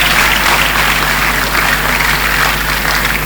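Audience applause at a university graduation ceremony, a dense, loud, sustained wash of clapping from a large crowd that fills the whole moment.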